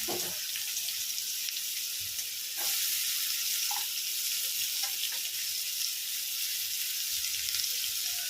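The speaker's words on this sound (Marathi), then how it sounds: "तर आपण कांदा यामध्ये परतायला टाकून घेऊया." Sliced onion sautéing in a pan for a Marathi-style capsicum (bell pepper) stir-fry, giving a steady, close hiss of frying oil with a few soft stirring clicks, no voices.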